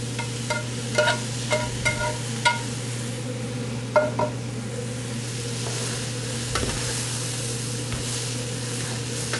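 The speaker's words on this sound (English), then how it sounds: "Give that a really good stir." Ground meat frying in a pot for a chocolate-tequila chili gets stirred, a steady sizzle under a low hum with a run of spoon clicks and scrapes early on, then quieter frying.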